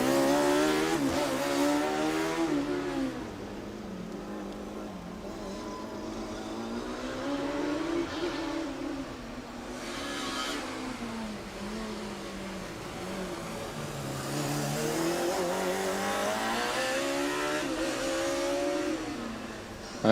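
Formula Student race cars run an endurance event on track, their engines rising and falling in pitch as they accelerate and pass, a continuous moderately loud whine and roar with no voices.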